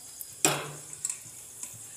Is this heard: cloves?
yes